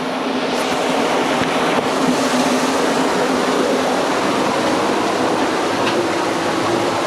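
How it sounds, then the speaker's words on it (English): Steady, loud rushing water of a waterfall pouring down continuously nearby inside an old mine, a dense unbroken roar with no voices. "As you can see, there's quite a lot of water coming down."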